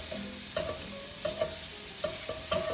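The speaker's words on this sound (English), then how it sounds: "using the same pan, we're gonna render out our bacon pieces first" Bacon pieces render in a pan for a chicken francese sauce, a steady loud sizzle and frying hiss under repeated scraping stirs of a utensil against the pan, close up and with no talk.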